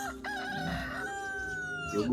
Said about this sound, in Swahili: Hapa kuku jogoo